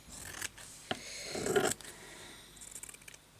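Scissors snip through recycled fabric doily with a few short, close cuts and a brief scraping crunch, alone with no talk.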